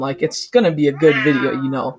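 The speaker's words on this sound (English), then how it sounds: "sorry about my cat in the background." A house cat meows in the background, a drawn-out cry that runs under a man's close, clear speech.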